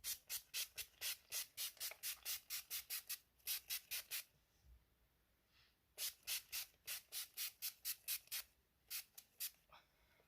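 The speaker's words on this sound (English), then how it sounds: "So I'm just going to spray my face." Setting spray misted onto a face in quick bursts, a rapid train of sharp hissing pumps, a pause, then another run of sprays, close and clear.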